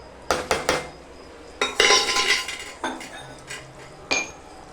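A spoon stirs chole sabji in a metal pot with sharp scraping clinks in irregular bursts. A long scrape sits in the middle, and a faint sizzle runs beneath.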